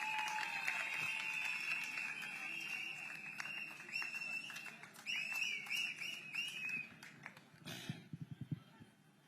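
Crowd applause at an outdoor political party public meeting in Villivakkam, a faint steady wash of clapping and cheering that swells into a few sharp, distinct claps near the end.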